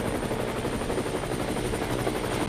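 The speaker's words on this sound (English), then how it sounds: "Chopper 1 is heading back to the ship." A helicopter flies past in a film sound effect, with a steady, loud, thudding rotor chop and engine whine that fills the whole stretch without a break.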